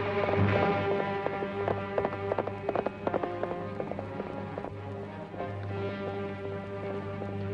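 Horse hooves clip-clop in a steady, uneven rhythm on hard ground, one horse with a loose shoe, moderately close, with a low rumble of a moving herd underneath.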